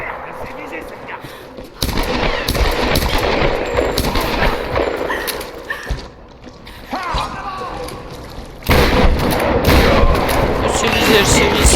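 Gunfire in the Tomb Raider video game: bursts of rapid shots and mechanical clatter come in loud waves, with game voices and commotion mixed in and brief lulls between exchanges.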